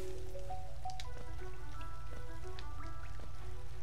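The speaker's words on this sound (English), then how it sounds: "A beautiful waterfall in the background." Steady waterfall-like rush of falling water fills the background of the Greenpath area in Hollow Knight, a constant wash with soft drip-like ticks and faint musical tones over it.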